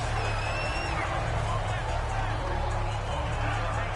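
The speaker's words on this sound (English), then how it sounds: "You hear the roar from this crowd in Indianapolis as Andrew Luck comes back onto the field" A stadium crowd in Indianapolis roars continuously in a Madden NFL 19 football game, a dense, steady wash of cheering and babble with no pauses, filling the whole span at an even, loud level.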